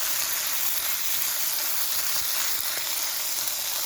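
Mince sizzles in a pan over a campfire while wild camping, a loud, close, continuous hiss and crackle with occasional stirring scrapes and no voices.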